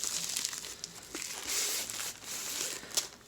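Plastic packaging around a diamond painting kit is cut open. The crinkling and rustling is quiet and close, with a few sharper crackles over about three seconds.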